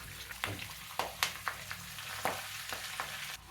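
Ponnaganti leaves frying in a little oil in a kadai, a close, steady sizzle broken by sharp crackles and pops at irregular intervals.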